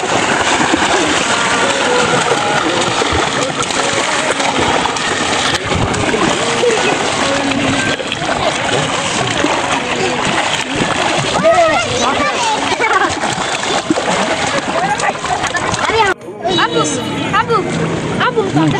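People swimming splash and slosh through water in a continuous loud wash, with voices and shouts heard throughout over the splashing.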